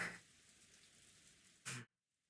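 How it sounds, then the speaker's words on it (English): Steady soft rain patter with a faint hiss, fairly quiet and even, ending in a brief louder burst before cutting to near silence. "you can listen to this lovely rain ASMR"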